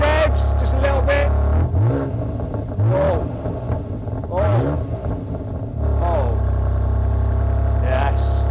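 A car engine starts and runs, with a steady low rumble throughout and a few brief revs rising and falling while people talk over it, the engine noticeably louder than normal.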